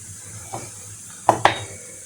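Chicken breast being stirred with salt and khmeli suneli in a pan, with a soft scrape and then two sharp utensil clinks against the pan over a faint steady hiss.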